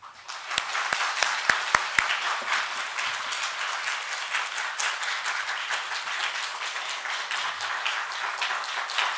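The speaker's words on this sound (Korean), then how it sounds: "이행구 목사님 나오실 때 큰 박수로 환영하도록 하겠습니다" A church congregation at a Korean Sunday afternoon service breaks into loud, sustained applause to welcome the pastor. A few sharp individual claps stand out early before the sound settles into a dense, steady wash of clapping.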